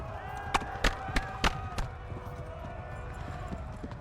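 Horse hooves in the video game Kingdom Come: Deliverance, a quick run of sharp clopping beats close up that fades into a steady rumbling background.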